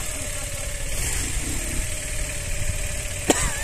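A motorcycle engine idles steadily in the open countryside, a low continuous hum running throughout, with a brief sharp noise near the end and faint background voices.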